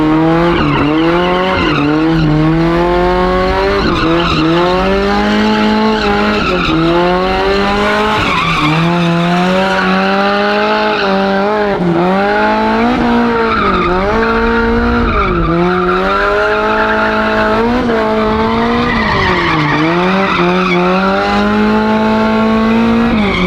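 A Toyota AE86 drifts with its engine revving hard and its tires squealing in long, wavering screeches. The sound is loud and continuous, close to the microphone, with the pitch rising and falling as the car slides.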